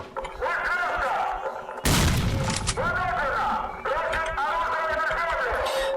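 Rapid bursts of automatic gunfire with booming impacts, loud and close, layered over steady game music and effects.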